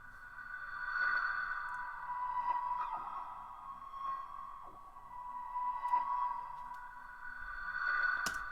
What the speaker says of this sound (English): the final sound that I used from the sample was this sort of pluck sound